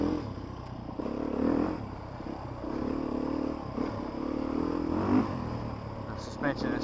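A 2023 Beta 350 RR race motorcycle rides and accelerates, its mid-pitched engine droning steadily with small surges and throttle swells while someone talks over it.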